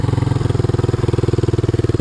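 A 1986 Honda TRX200sx ATV engine runs at a steady idle close by, with a fast, regular thumping pulse and a rattly, patched-up exhaust.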